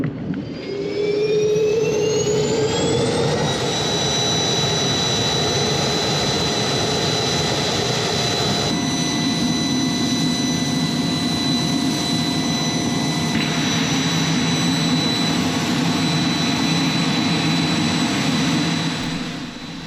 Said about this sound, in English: we got the air cart running, getting the engine spooled up, and we're waiting for the engine to get to the right RPM